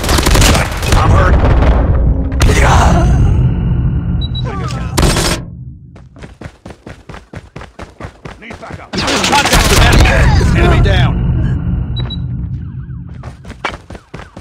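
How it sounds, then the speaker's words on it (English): Gunfire fills a hardcore Hardpoint multiplayer match in Call of Duty. Heavy bursts and booms open the clip, then a steady run of rapid single shots follows, then another loud barrage, with game voice lines over it. "Got shot."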